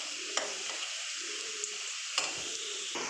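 Potatoes fry in mustard oil left from frying catla fish heads, giving a steady close sizzle with scraping stirs and a few sharp clinks of the spatula against the pan.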